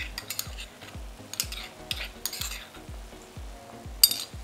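Garlic frying with minced meat in a pan, heard up close but quietly: a soft sizzle with a regular beat of spatula knocks and scrapes against the metal, plus a light clink near the end, and no voices.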